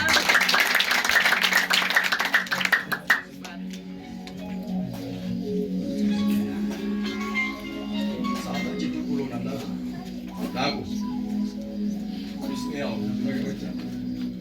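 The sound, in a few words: congregation clapping for the Lord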